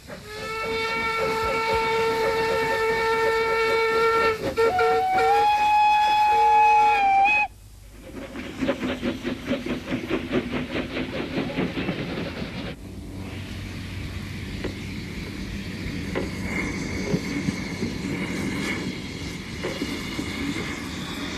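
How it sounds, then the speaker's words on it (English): Steam locomotives running round their train on a heritage railway: a long, loud multi-tone whistle sounds first, then gives way to rhythmic chuffing and clanking of the engines moving nearby. "The locos soon run round their train and couple up for the return journey."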